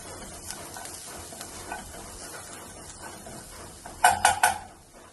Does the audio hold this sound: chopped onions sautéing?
yes